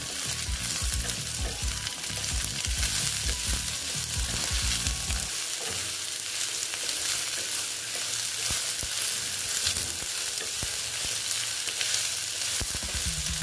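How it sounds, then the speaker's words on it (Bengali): Boiled taro stolons (kochur loti) fry in a hot pan, giving a loud continuous sizzle close by, with dense stirring scrapes and clatter early on that then ease into a steady hiss, and no voices. "লতিগুলো দিয়ে লতিগুলো এবার আমি ভেজে নেব ভালো মতন"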